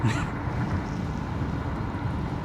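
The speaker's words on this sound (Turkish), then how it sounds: "Böyle bir güzel esinti var. Serin serin esiyor." A cool breeze blows steadily across Mamur mountain in Samsun, a continuous moderate rush of wind buffeting the microphone, with no talking.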